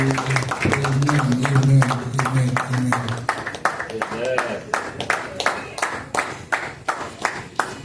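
Rhythmic group clapping at a church worship service, first under sustained voices, then crisp, evenly spaced beats carrying on alone and close.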